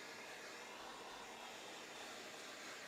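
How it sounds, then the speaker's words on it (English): A vacuum cleaner sucks dust and pet hair out of a PS4 Pro console, a steady, faint whooshing whine with no talk. "I like using this vacuum cleaner first because it takes all that dust and it removes it"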